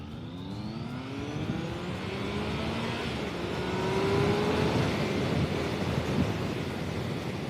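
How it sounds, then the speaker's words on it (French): A 2017 Triumph Speed Triple 1050 motorcycle accelerates on the road, its engine note rising in a smooth, swelling whine under heavy wind rush, growing louder toward the middle and then easing slightly. "Je vais faire une petite accélération, juste pour le plaisir."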